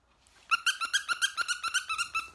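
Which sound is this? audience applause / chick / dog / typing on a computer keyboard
dog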